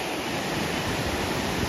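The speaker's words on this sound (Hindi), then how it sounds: "काफी अच्छा वाटरफॉल, बिल्कुल साफ पानी, देखो वहां से आ रहा" A waterfall with clear flowing water near Darcha on the Manali route in the Himalayas roars as a steady, loud, broadband rush with no breaks over a brief moment.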